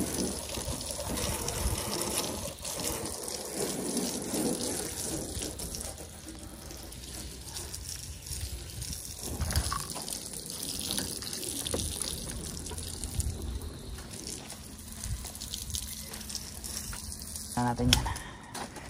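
Water running steadily while a minivan is washed, a broad continuous gush with some clatter of handling, and speech heard faintly at moments.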